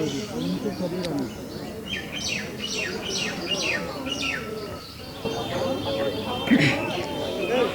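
Birds chirp and pigeons coo in bursts amid the bustle of a weekly market in Dighinala, Khagrachari, while people talk nearby throughout.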